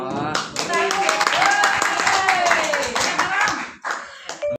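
Hand clapping from a small group at the close of a classroom activity, fairly close and sustained for several seconds, then tapering into a few scattered claps, with a voice talking over it.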